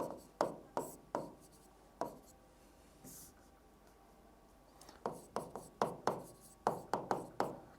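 A word is written on a board during a classroom lesson, heard as a series of sharp, close tapping strokes in uneven bursts with a short pause in the middle. There is no talk.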